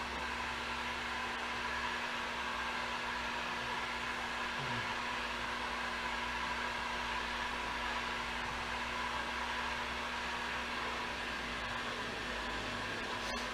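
A heat gun runs steadily on a 1939 Ford Deluxe fender during repair, giving a constant low-level blowing whoosh with a faint electrical hum that stays unbroken throughout, with no talking.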